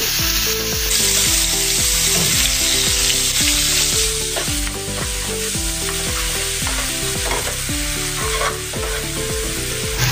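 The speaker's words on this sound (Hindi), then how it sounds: "अभी इसमें हम चॉप किया हुआ कटर में प्याज डालेंगे।" Loud, continuous sizzling of chopped onions frying in hot oil, with a steady crackling hiss throughout and no talking.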